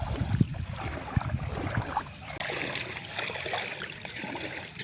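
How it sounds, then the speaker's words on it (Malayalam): A strong river current rushes steadily nearby, with splashing and trickling water and a few thumps near the start, no voices. "ഇവിടെ കണ്ട അപ്പുറത്തേക്ക് വെള്ളം നല്ലോണം ഒഴുകി പോകുന്നുണ്ട്"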